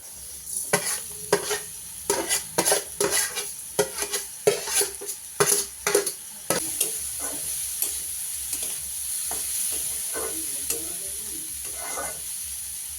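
Sugared coconut filling fries and is stirred in a wok, a spatula scraping and clattering in quick bursts over a steady sizzle, then settling into a softer continuous frying hiss.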